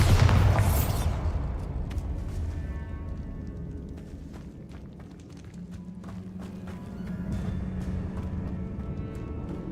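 A Bombarda spell explodes in Hogwarts Legacy: a sharp, loud blast at the start, then a rumbling decay with scattered debris clatter and low background game noise.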